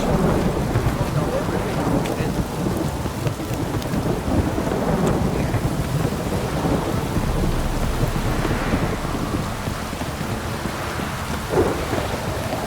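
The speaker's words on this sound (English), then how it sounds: "This downpour's a bastard," A heavy, steady downpour roars throughout, with deep rumbles of thunder rolling underneath; no one speaks. From the video game The Witcher 3.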